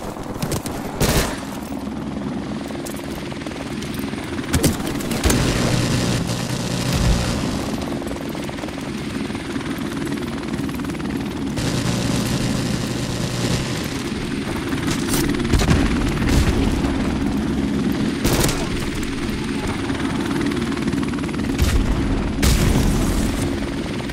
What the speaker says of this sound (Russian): Вертолет противника!